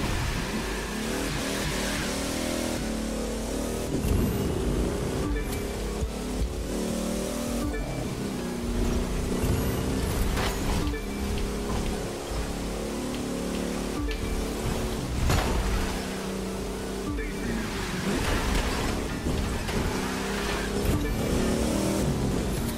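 Plymouth car engine in the racing video game The Crew 2, a loud, continuous roar that rises and falls through gear changes for the whole stretch, with no voices over it.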